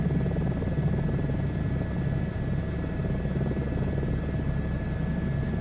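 Helicopter rotor and engine noise from a flight simulator game, a steady loud drone with rotor hum that runs unbroken throughout, with no talking.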